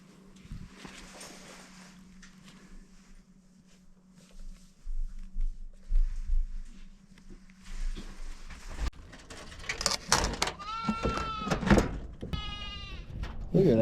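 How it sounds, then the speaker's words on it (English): Bleats from a sheep on a farm ring out close and loud in the latter half, several wavering calls in a row, after a stretch of quieter indoor sounds and a low hum; a person talks nearby. "I forgot we had a sheep"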